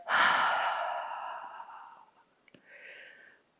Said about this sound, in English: let's do an audible exhale out through the mouth